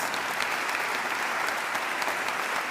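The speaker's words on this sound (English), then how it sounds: "You guys can keep on clapping if you want to." A standing audience at a speech in Topeka, Kansas claps steadily, a dense, loud, even wash of applause throughout.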